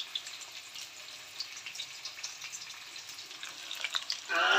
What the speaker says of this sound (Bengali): আর মাংসের আলু আমি ভাজা বসিয়ে দিয়েছি এদিকে, সবেমাত্র বসালাম।